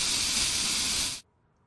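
Cleaner sprayed onto an SKS semi-automatic carbine in the video game Into the Radius, one continuous bright hiss lasting about a second, loud and close, then cutting off abruptly to near silence.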